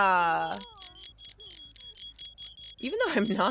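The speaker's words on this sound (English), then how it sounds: "you hear those timers? They're ticking" Trap timers in a competitive video game tick and beep in a steady rhythm of short high-pitched pulses, with voices talking over the start and end.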